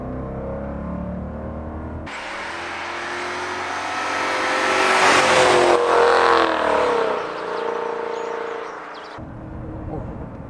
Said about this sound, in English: I'm going to drop it a gear so we can take a listen to that exhaust